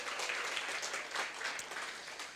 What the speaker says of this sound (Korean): 잡으실 분들만 저와 함께 박수 한번 보내실게요.